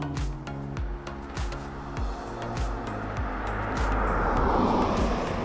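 A car comes up from behind on a paved mountain pass road in Somiedo, its engine a steady low drone that swells louder toward the end while a cyclist's wind noise fills the background.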